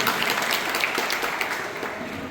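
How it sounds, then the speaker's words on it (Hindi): An audience at a Hindu organization's workers' conference in Butibori claps together, a moderate wash of applause that gradually fades over a couple of seconds. "ताली तो बनती है"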